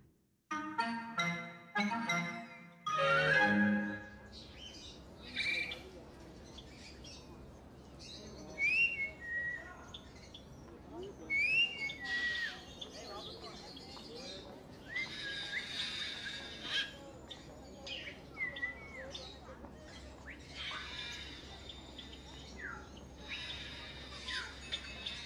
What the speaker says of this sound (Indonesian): burung-burung.